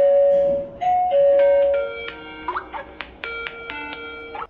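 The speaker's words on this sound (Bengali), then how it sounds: "এই যে এখানে বেল আছে" An EZVIZ DP2C wire-free peephole doorbell rings, playing a loud electronic melodic chime up close, with several sustained tones followed by a string of shorter notes.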